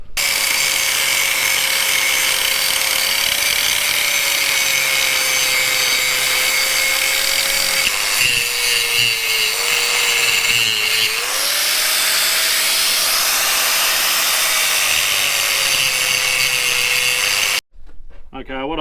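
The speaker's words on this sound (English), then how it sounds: "what I've done is I've cut into the weld" Steady, loud grinding or cutting into a cracked weld on a steel chaser bin, continuous with a shifting pitch for about seventeen seconds before cutting off abruptly.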